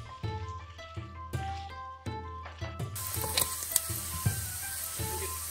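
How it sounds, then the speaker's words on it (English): Sliced meat sizzling in a pan with olive oil, a steady close-up fry with clacking and stirring knocks throughout and the sizzle growing louder toward the end. "I fry the sliced meat in a pan with some olive oil."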